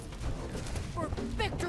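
Rapid gunfire bursts in the Fallout 4 mod America Rising 2, Enclave combat, crackling through a dense, continuous battle din with shouted radio-style voices over it.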